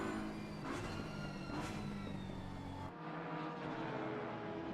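BMW race car in Assetto Corsa Competizione on the Nürburgring, its engine droning loudly and steadily with rising harmonic whine, a brief dip near the middle before the roar resumes.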